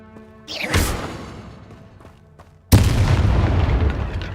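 Explosive spells Confringo and Bombarda in the game Hogwarts Legacy, two loud booming blasts, the first with a whooshing burst and fading rumble, the second sharper and heavier, followed by sustained crackling rumble.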